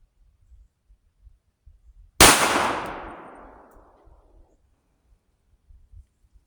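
A single loud 9mm pistol shot from a Tisas Stakeout at a shooting range, a sharp crack followed by a ringing decay of about two seconds, with quiet background before and after.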